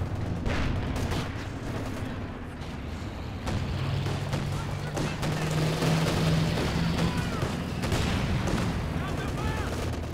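Continuous machine gun chatter and booming artillery fire rumble through a Company of Heroes 2 2v2 battle, dense and sustained beneath a commentator speaking throughout.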